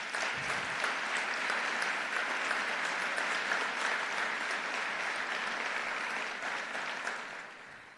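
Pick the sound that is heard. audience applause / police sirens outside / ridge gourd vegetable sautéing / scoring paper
audience applause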